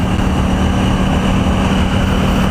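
A 2018 KTM Duke 790 A2 motorcycle engine held at high revs, a loud, steady, sustained drone with a constant pitch and no break, heard alone without talk.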